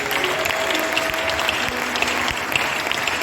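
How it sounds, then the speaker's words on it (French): A church congregation at a music school presentation breaks into sustained, dense clapping that stays even and loud throughout, with scattered crowd noise underneath. "Acclamons Jésus."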